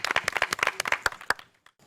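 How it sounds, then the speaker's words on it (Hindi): Brief applause from a small studio audience on a farmers' quiz show, a quick patter of hand claps that trails off within about two seconds. "जोरदार तालियां।"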